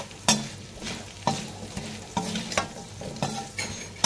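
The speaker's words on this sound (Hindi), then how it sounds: "अभी इसमें मैं डालूंगी ये मिर्ची पाउडर एंड इसको अच्छे से मिला लेंगे।" A spoon stirs chili powder into a dish in a pan over a switched-off flame, with repeated scraping strokes in an uneven rhythm over a soft, lingering sizzle, close and clear without voices.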